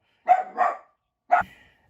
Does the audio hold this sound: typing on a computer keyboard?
no